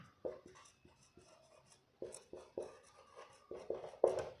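Chalk or marker strokes on a classroom board during an optics lecture, short scratchy bursts in an uneven rhythm, close and clear, with a few quick taps between strokes and no talking over them.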